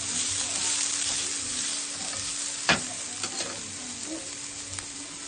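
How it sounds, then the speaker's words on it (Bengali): Vegetables and spices for noodles frying in a pan, a steady close sizzle with occasional soft scrapes and knocks of stirring throughout. "এখন আমি এখানে একটা সুন্দর মশলা দিয়ে এখন মশলাটা দিয়ে আমি ভেজে নিচ্ছি ভালো করে"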